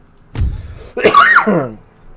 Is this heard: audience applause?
no